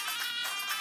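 A mobile phone rings on a comedy show set, a brief melodic ringtone of bright repeating tones pulsing in a steady rhythm, clear and alone without any talk.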